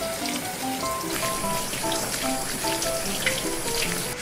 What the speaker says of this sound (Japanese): 米はね、水で洗ってぬめりを取っていきます